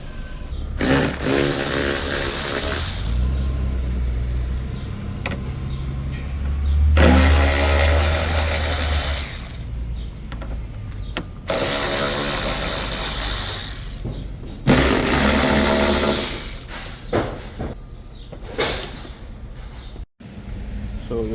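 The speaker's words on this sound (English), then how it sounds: "Now I'm gonna remove the second strut." A hand tool works on a Toyota RAV4 liftgate strut during removal, giving long stretches of loud buzzing ratchet-like mechanical whirring in several bursts, close up, with someone talking over parts of it.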